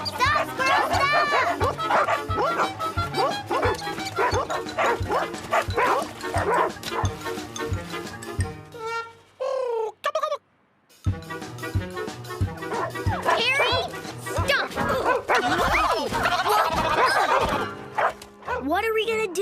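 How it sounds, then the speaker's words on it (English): Cartoon dogs bark, yip and whimper excitedly at a dog wash, rapid repeated yaps and bow-wows filling most of the scene with voices talking amid them and a brief near-silent gap midway. "The dogs are out of control and they're getting dirty."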